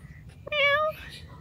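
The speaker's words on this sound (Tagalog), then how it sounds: "May pusa dito." On Siquijor Island at night, a cat gives a single clear, drawn-out meow lasting about half a second, close by against quiet surroundings.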